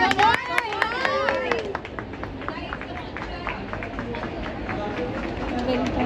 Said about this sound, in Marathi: guys, तालियां तालियां तालियां.